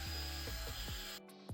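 A screw being driven into the base of a bathroom or bedroom door handle with a powered screwdriver, giving a close, buzzing motor whine that shifts pitch in short bursts and then cuts off abruptly.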